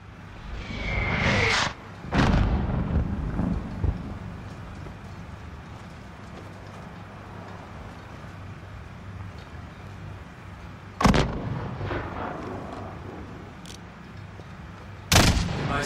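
Enemy mortar rounds landing in Call of Duty: Modern Warfare on a highway battlefield, a few heavy booming blasts spaced several seconds apart over a constant rumbling war ambience.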